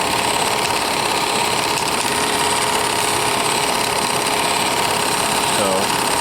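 A Bell and Howell 255A Autoload 8mm film projector runs with its blower going, a loud, steady mechanical whir and rattle that stays continuous from start to finish, up close.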